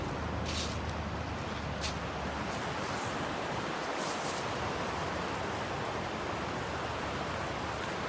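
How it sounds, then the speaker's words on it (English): A river flows steadily outdoors on a nature trail, a constant broadband rush of water that holds even and continuous throughout, with no voices over it. "That's a river flowing."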